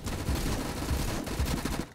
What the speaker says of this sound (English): Okay, I can hear some gunshots.